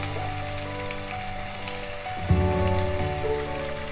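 Shallots and onions sizzle in hot oil in a pan with coconut pieces for Kerala-style beef roast, a steady close crackle that swells louder partway through as more goes in, with no voices.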